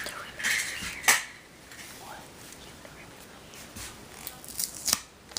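Scissors cutting open action figure packaging made of corrugated cardboard, with a few sharp snips and crisp plastic crackles close by, and quiet rustling between them.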